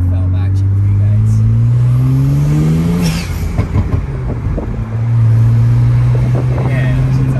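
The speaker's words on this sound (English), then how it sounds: "It's a blow off valve action for you guys." BMW 335i with the N54 twin-turbo engine cruising with a steady low drone, then a brief whooshing blow-off valve release about midway before the engine pulls again; people talk over it.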